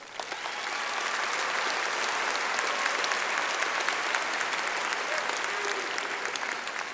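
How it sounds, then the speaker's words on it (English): A graduation ceremony audience at a high school breaks into broad, sustained applause, a dense steady roar of many hands clapping that swells in and holds without talk. "I think they deserve a big round of applause"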